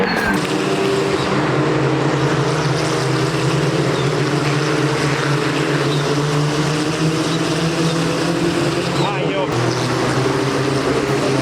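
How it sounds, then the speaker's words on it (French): Race cars arrive at the Spa 24 Hours, their engines droning loudly and continuously with a couple of rising and falling tones as they approach and pass, close and sustained throughout. "Et voilà les voitures qui arrivent."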